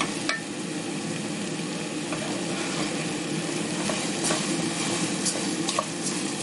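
Rice sizzles steadily in a hot pan with vegetables as it is stirred, giving a constant close frying crackle with scattered scrapes and clicks of a utensil against the pan.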